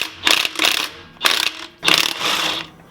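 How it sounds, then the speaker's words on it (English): A ratchet wrench loosens lug nuts on a 2006–2018 Jeep Wrangler JK wheel, heard as close, loud bursts of rapid clicking in four separate runs, with no talking. "we're going to go ahead and loosen our lug nuts"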